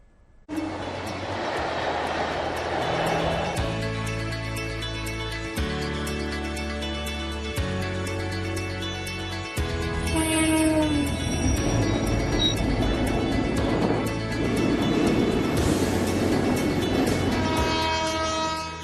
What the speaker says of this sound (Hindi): ऊंचे ऊंचे पहाड़ों के बीच रफ्तार से बातें करती ये ट्रेन